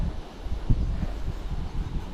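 Wind rushes and buffets against a motorcycle-mounted GoPro microphone in a continuous low roar, with no voices, in highland country near Tangub City, Philippines.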